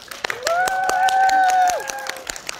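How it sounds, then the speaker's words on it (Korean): Audience clapping at a film screening Q&A for the director and actors, a steady patter of many hands with a voice speaking over it throughout. "박수 한번 부탁드리겠습니다."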